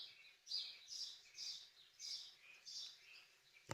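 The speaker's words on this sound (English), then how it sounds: "Oh hey, the bird's back." Small bird chirping indoors in a quiet room, a series of bright repeated tweets in an even rhythm of about five calls, moderately close and clear with no talk.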